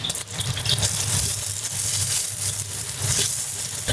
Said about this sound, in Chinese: 这边我们来把卤料炒一下